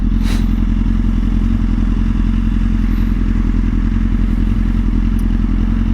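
Steady low motorcycle engine rumble running throughout, a close continuous idle-like throb with faint clatter on top and no talk.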